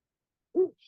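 A recorded owl call plays once, a single short, low hoot standing alone in silence, with a faint higher trace just after.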